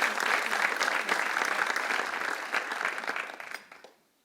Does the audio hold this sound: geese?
no